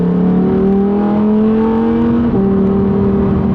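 A Ferrari SF90 engine drones and revs while cruising through a tunnel at about 60 mph, a loud, sustained tone that climbs steadily in pitch, drops briefly and then holds, echoing close by with no talking.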